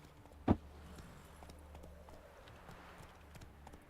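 Hooves clip-clop at a steady walking pace as a horse is ridden in The Witcher 3, with one sharper, louder hoof strike near the start and the rest soft and even over quiet ambience.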